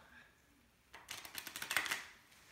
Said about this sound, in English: Let's do a little shuffling just so y'all know that I ain't put it in no certain spot.